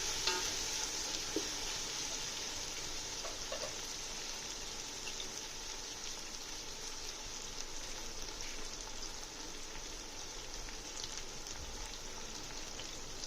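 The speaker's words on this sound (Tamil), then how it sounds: "எல்லாத்தையும் சேர்த்து நம்ம ஒரு வாட்டி நல்லா வதக்கிக்கலாம்" Egg biryani masala sautés in a pan with a steady, even sizzle and occasional soft stirring scrapes, faint and continuous, with no talking.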